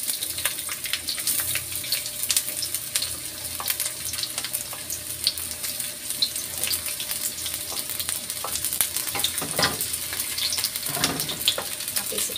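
Shallots and garlic fry in a pan for a spicy capcay, giving a dense, crackling sizzle throughout with scattered pops and stirring clatter, steady and close.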